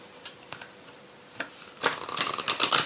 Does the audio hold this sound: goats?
no